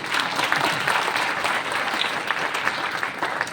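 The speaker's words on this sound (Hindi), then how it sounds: "जरा ताली बजाइए इन लोगों की।" An audience at a motivational talk in Dabla village, Neem Ka Thana, Rajasthan, claps steadily and fairly loudly for the whole stretch, a dense even patter with no voices over it.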